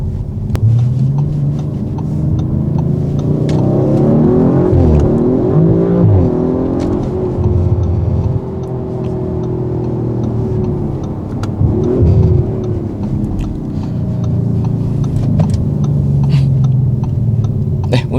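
Audi RS 5 Sportback with a 2.9-litre 450-horsepower engine accelerating hard, its engine note rising and dropping through several quick gear shifts, heard steadily from inside the car.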